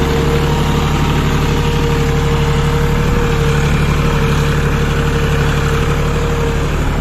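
A John Deere 5105 4x4 tractor rolls in low gear over gravel on a slope, its diesel engine droning loud, steady and close with a constant low rumble throughout.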